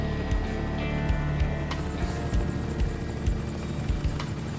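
A helicopter drones steadily with a low rhythmic rotor thump, loud and continuous, with no voices.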